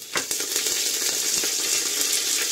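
Curry leaves fry in hot oil with garlic for a homestyle Bengali dal, giving a dense, steady sizzle with small crackles and pops throughout.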